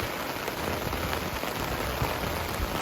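Heavy rain pours steadily onto a truck tent, a dense, loud, unbroken hiss and patter of drops on fabric with no voices.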